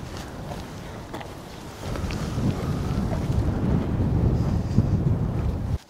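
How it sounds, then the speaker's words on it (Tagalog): Strong wind roars across the microphone on a mountain hike near Keswick, a steady low buffeting that swells louder after the first couple of seconds and holds before cutting off abruptly. "Lakas ng hangin."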